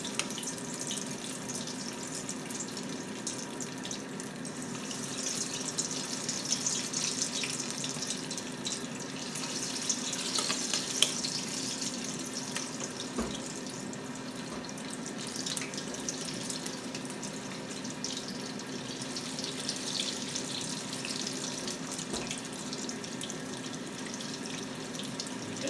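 Lentil pakora (dali bora) fritters cooking in hot oil give off a steady, close sizzling hiss that holds level throughout with faint scattered pops.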